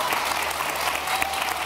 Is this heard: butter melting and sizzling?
no